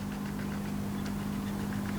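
A safari vehicle engine idles nearby in Khwai, Botswana: a steady, unbroken low rumble with a constant hum and faint rattling, with no voices.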